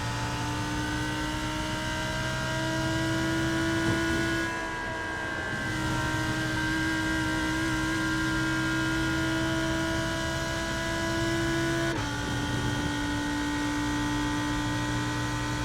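A Lamborghini Huracan GT3 Evo race car in the iRacing sim gives a steady, droning engine note that holds a constant pitch, dips briefly partway through and then shifts once as the revs change.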